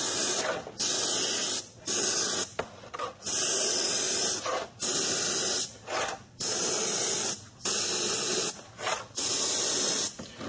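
A Badger Anthem airbrush sprays paint in repeated bursts of steady hiss, each lasting about a second or two and separated by short pauses, close and fairly loud with no talking.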